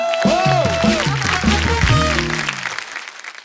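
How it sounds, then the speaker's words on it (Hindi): A studio audience on the Kapil Sharma Show applauds, a steady wash of clapping that runs under a sustained tonal voice or music before thinning out toward the end. "खैर एक बार कपिल शर्मा शो की फैमिली की एक बार जोरदार ताली हो जाए।"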